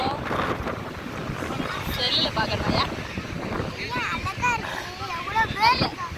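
Strong wind buffeting the microphone on Tiruchendur beach, blowing sand, with steady gusty rumble throughout and people talking close by over it.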